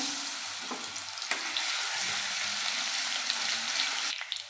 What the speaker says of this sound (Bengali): তেলটাও গরম হয়ে গেছে, এবার দিয়ে দেবো রসুন বাটা